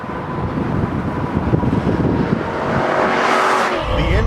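A 1986 Porsche 944 swapped with a C6 Corvette LS V8 drives past, its engine noise a steady roar with rushing wind and tire noise that swells slightly toward the end, no talking.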